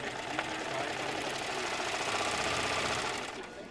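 A serger sewing machine stitching along a fabric edge runs continuously at high speed, a dense rapid mechanical whir and rattle, close by with no pauses.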